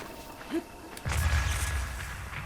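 A bomb goes off while hunting birds in Zelda: Breath of the Wild, a single low, rumbling in-game boom that hits after a brief quiet and lingers, with a faint bird chirp just before.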